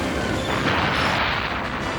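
Star Trek starship weapons fire as a dense, sustained burst, a loud broadband roar with booming low end that holds steady for about two seconds without talk.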